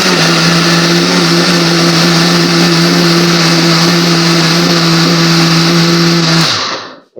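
A high-power kitchen blender crushing chopped carrots for juice, a loud, steady motor whir with a strong low hum running for several seconds before spinning down abruptly at the end, no voices.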